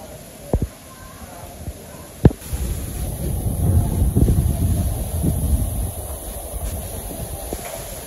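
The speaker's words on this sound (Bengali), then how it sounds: "বাবারে বাতাস" Strong wind buffeting a microphone outdoors in a village while meat cooks, a broad rumbling roar that builds midway and stays heavy, with a few sharp knocks early on.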